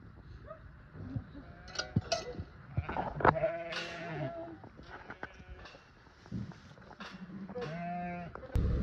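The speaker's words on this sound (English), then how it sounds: "That is Erin's sheep all collected, and now we're moving them to the field" A flock of sheep that have recently lambed bleats repeatedly at close and middle distance, several overlapping calls, with rustling and shuffling underneath as they are moved to a field.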